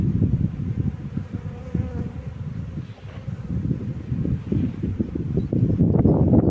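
A dense, continuous buzzing of many honey bees at an apiary fills the air close by, with some wind rumble and a brief gusty patch toward the end.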